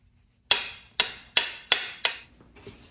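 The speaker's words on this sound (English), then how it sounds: "center punching" A hand center punch is struck five times against metal while a Black & Decker 8-gauge nibbler is being refurbished, giving sharp, bright, ringing taps at a steady, unhurried pace, close and clear, followed by faint handling noise.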